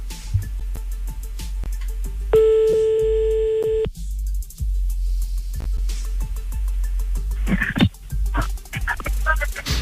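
A telephone line sounds on a radio show as a caller is put through: a single steady electronic tone lasting about a second and a half, amid clattering studio noise.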